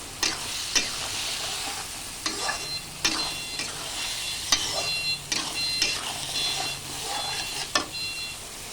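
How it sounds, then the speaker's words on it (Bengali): Soybean chunks fry with spices in a pan, stirred in repeated scraping strokes over a soft sizzle. The stirring comes in irregular bursts that are close but fairly quiet, and nobody talks. "এবার একটু কষে নিই সোয়াবিন দিয়ে।"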